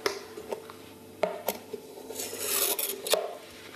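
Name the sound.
knife cutting around the edges of a dish of vegan marshmallow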